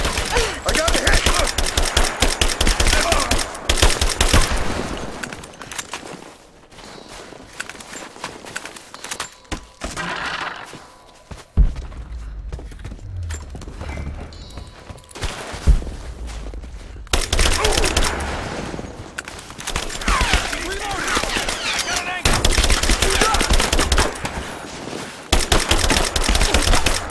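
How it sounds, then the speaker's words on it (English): Machine gun fire in Rise of the Tomb Raider, dense and loud, with long sustained bursts and a quieter stretch midway before the shooting resumes, broken by occasional voices. "Suppressing fire, now! Suppressing fire!"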